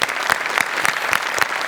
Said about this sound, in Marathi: एकदा आपल्या जुजबीसाठी जोरदार टाळ्या.